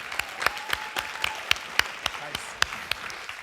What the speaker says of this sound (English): Let's give John Paul and Eloise a little round of applause.